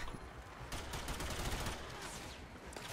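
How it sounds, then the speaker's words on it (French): Gunfire from a video game with a Gorgon weapon plays as dense bursts of crackling shots, loud and close, layered over a continuous noisy background for a few seconds, with no talk. "Je laisse un peu le son des effets sonores parce que là, le bruit des balles"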